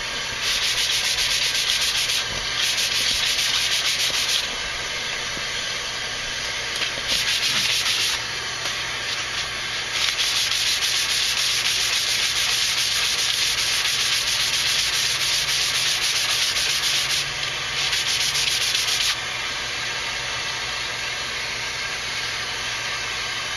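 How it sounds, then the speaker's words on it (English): Continuous rasping of sandpaper rubbed by hand on hardwood for a Native American flute, close up, in long strokes with brief pauses between them. "I'll let that get hot while I'm sanding it a little bit by hand here."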